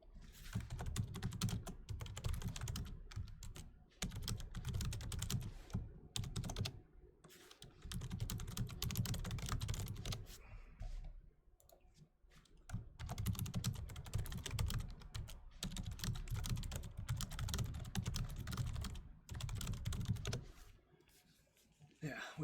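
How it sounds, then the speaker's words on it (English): A computer keyboard is typed on in bursts of rapid clicking with short pauses between runs, fairly close, mixed with a little background noise and possible murmuring. "we can have a little break just for typing"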